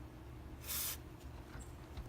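A short burst of hissing spray from an aerosol can onto a PVC and foam prop hammer, lasting under a second, against a quiet room background.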